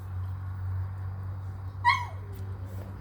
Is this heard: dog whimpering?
yes